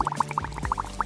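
Water filling a bubble bath, heard as a rapid run of bubbly, gurgling pops in quick rhythmic succession over a running-liquid background, close and moderately loud.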